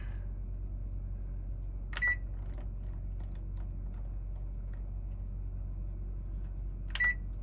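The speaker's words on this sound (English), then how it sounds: "Get our microwave clock set here." A microwave oven gives two short, high beeps about five seconds apart while its clock is being set on a boat, heard over a steady low hum.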